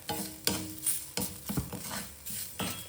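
Salt dry-roasting in a pan for idli podi, with a soft sizzle and repeated scraping stirs of a spoon against the metal, close and steady with no talk.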